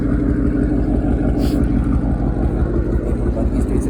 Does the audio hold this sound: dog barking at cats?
no